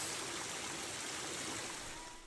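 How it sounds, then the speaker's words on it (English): Water rushes down a hiking trail on Mount Washington in the White Mountains like a waterfall, a continuous, fairly soft roar of splashing runoff with no voices. "The trail is a waterfall."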